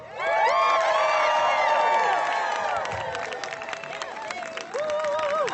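An audience at a Gatsby Summer Afternoon garden event cheers and applauds a group after their song. Whoops and high shouts sit over sustained clapping that fades slightly, then swells again.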